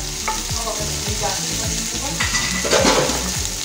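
Garlic and onion sautéing in a pan, a loud steady sizzle with rhythmic stirring scrapes of a utensil against the pan, close up.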